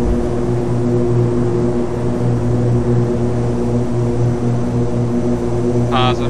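Twin-engine Cessna 310 in a flight simulator at takeoff roll, a steady loud propeller-engine drone with strong tonal hum, continuous and close, with a brief higher tone near the end.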